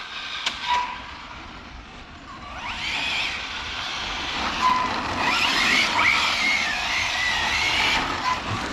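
Small three-wheeled Felony vehicle drifting and skidding down a debris-strewn driveway; a rising rumble carries squealing tire tones, louder in the second half, with no talk.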